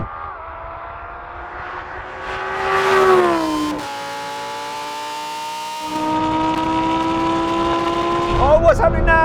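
A Lamborghini Huracan Performante and a Chinese SUV accelerate hard side by side in a drag race, engines rising in pitch through gear changes with a brief drop between, loud and close, while someone talks excitedly over them.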